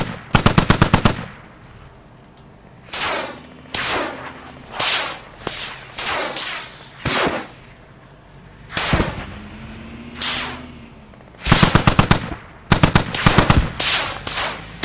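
Gunfire in the military shooter game Squad, with repeated bursts of rapid automatic fire alternating with single heavy shots that each echo away, loud and close, with long pauses between volleys.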